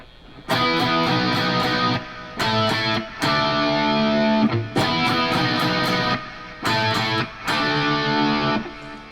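A distorted electric guitar plays an intro riff in repeated bursts with brief gaps, loud and saturated with effects.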